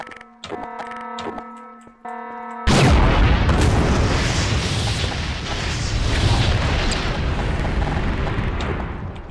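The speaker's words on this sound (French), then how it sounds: "Une petite explosion ici." A sudden loud boom erupts after a stretch of electronic tones, followed by a long rumbling roar that slowly fades, an explosion in Garry's Mod.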